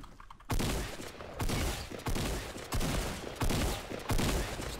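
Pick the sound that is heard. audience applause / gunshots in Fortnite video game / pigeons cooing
gunshots in Fortnite video game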